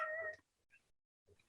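A house cat meows indoors at moderate loudness at the start, followed by a couple of fainter, brief sounds after a pause.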